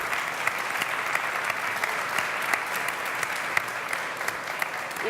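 Steady, sustained applause from a large audience at an Iberdrola shareholder day, dense even clapping at a constant moderate level throughout.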